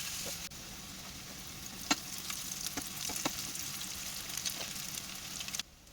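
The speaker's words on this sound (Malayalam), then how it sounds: "ഇതുപോലെ എല്ലാ കട്ട്ലറ്റും നമുക്ക് ഫ്രൈ ചെയ്തെടുക്കാം" Banana flower cutlets fry in hot oil with a steady close sizzle and crackle, scattered sharp pops and spatters throughout, ending abruptly near the close.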